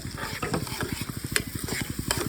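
Onion fritter batter with red onion, turmeric and salt being mixed by hand in a bowl, a quick rhythmic squelching stir with regular pulses and a few sharper clicks, close and fairly quiet.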